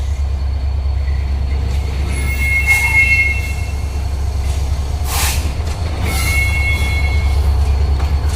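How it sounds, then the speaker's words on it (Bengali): Nilsagar Express, led by locomotive 6620, departs Parbatipur railway junction: a loud, close, steady rumble of the passing train, with high wheel squeals and screeches rising over it at intervals. "ঢাকা থেকে ছেড়ে আসা চিলাহাটি অভিমুখী Nilsagar express Parbatipur railway junction ছেড়ে যাচ্ছে"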